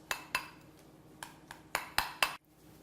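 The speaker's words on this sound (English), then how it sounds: "Let's stir it up and see if it meets the consistency that we want for these eggs." Gator pickle relish and mustard egg mixture stirred in a bowl with a utensil, giving about seven sharp clinks and scrapes at an uneven pace, fairly close and fairly quiet, with no talking.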